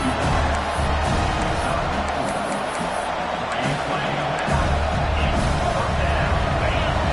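Steady roar of a stadium crowd in a college football video game, heard during a fourth-down play. It is loud and continuous throughout, a dense wash of cheering and murmur with faint sharper bursts.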